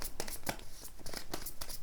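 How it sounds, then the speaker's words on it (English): Tarot cards shuffled by hand in short, crisp papery bursts of riffling and rustling that repeat at an uneven rhythm, close and alone. "that's a sign to stop shuffling"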